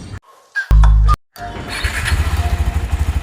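A KTM Adventure 390 motorcycle starts up with a brief loud starter burst, then settles into a close, throbbing idle that pulses rhythmically with low rumbling beats.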